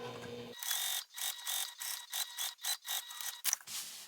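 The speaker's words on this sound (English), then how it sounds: "We are going to go back over the machine and top stitch 1/8 of an inch" A sewing machine top-stitches fabric an eighth of an inch from the edge of a book sleeve, running in short rhythmic bursts of mechanical clatter with brief pauses between runs and no talk.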